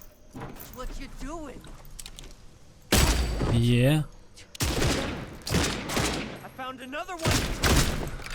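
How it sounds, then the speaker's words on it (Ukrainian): Gunfire from the video game Red Fall: loud broadband bursts of shooting, one long volley and several shorter ones, mixed in with someone talking throughout. "я не сумнівався, що буде стрілянина просто крутезна"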